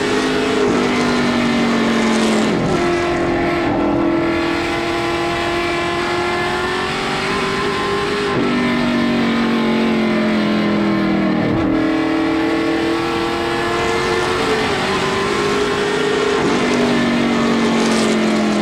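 Pro Stock race cars lapping Wiscasset Speedway, a loud continuous engine roar rising and falling in pitch as the cars accelerate and pass, with no voices over it.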